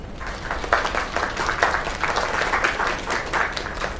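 A video game crowd applauds steadily, dense clapping with a few louder swells, close and continuous throughout.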